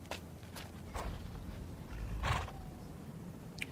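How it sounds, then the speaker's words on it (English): Horses tied to a tree on a moor, with snorting and whinny-like calls rising over a low rumbling background, several brief bursts spread across the moment, moderately close and without speech. "We'll tie the horses to this tree."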